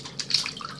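Water splashing and running out fast while scented orbeez are rinsed clean, a short burst of bright gurgling and dripping close by.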